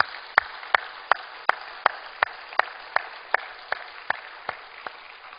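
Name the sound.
applause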